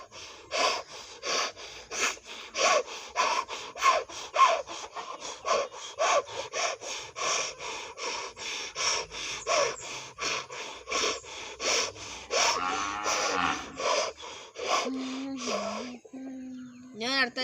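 A person uses only breath and voice to imitate a hand saw cutting through wood: a long run of rhythmic, rasping push-pull strokes, loud and close, followed by a few different vocal sounds at the end.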